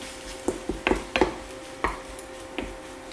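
Quiche mixture is stirred in a pan, with a handful of distinct scrapes and clacks of a utensil against the pan over a faint background hum. Nobody speaks.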